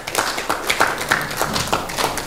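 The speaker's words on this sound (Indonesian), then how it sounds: "Berikan tepuk tangan kepada Bapak Zulkifli Mansyah." A crowd at a political event for a gubernatorial candidate applauds, giving a steady, dense patter of clapping at moderate volume with no voices over it.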